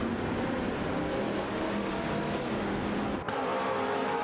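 An Ascari KZ1 R and a BMW Z4 M Coupe GT3 race in a driving video game, their engines making a loud continuous roar with a sharp drop near the end.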